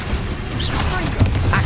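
A Bombarda spell explosion in Hogwarts Legacy lands as a short, muffled boom under a busy rumble, with a voice speaking the spell.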